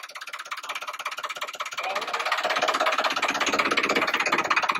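A tractor engine chugs in first gear as the clutch is eased out, a rapid rhythmic pulsing that grows louder and rougher as it pulls away, close by with no voices.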